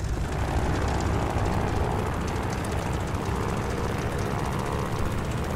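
Propeller-driven warplane engine roaring at full power for takeoff in the Call of Duty Vanguard video game, a dense, steady drone that stays loud and unbroken throughout.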